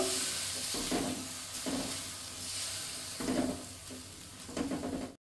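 Kashmiri chilli powder and a little water sizzling in a pan, stirred with several slow scraping strokes over a soft steady hiss, close and quiet with no voices.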